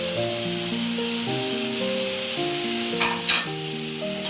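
Onion paste with ginger-garlic paste fries in a pan, giving a steady close sizzle that runs the whole time, with two short scraping stirs near the end and a background music bed underneath.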